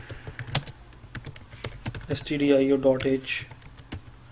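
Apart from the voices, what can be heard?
typing C code on a computer keyboard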